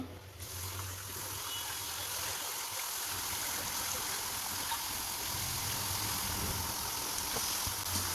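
Maida thattai, crisp flour discs, deep-frying in oil over a medium flame, giving a loud, unbroken rushing hiss of bubbling oil from start to finish with no talking.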